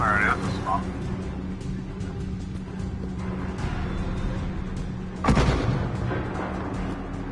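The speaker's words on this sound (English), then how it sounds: "You've got mortars incoming!" Enemy mortar fire in a PS4 shooter game, with a heavy boom landing partway through amid rumbling battle noise and a person talking over the action.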